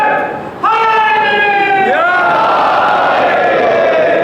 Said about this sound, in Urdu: اللہ اکبر نعرہ لگایا چچا جان نے